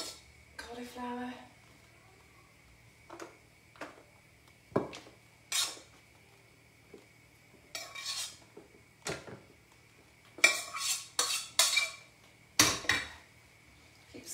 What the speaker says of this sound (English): Stirring your sauce.